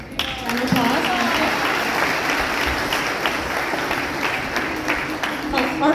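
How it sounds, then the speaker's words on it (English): Steady, dense applause from a crowd at a Sunday temple gathering after a lecture, continuous and fairly loud throughout with no pauses. "Round of applause."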